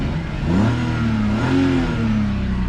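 A 1999 BMW 323i with 166,000 miles idles and then revs up twice, its engine note rising and falling close by with no talking.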